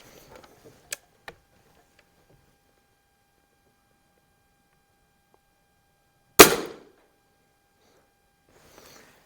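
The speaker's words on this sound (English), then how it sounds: "Shooting with its in-box scope." A single sharp report from an Umarex Prymex .177 nitro-piston break-barrel air rifle, loud and close, preceded by a couple of faint mechanical ticks in near-silence.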